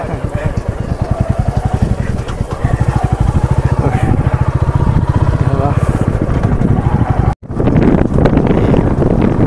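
A motorbike rides along with its engine thumping in a fast, steady rhythm close to the microphone, while wind buffets loudly throughout and briefly cuts out near the end.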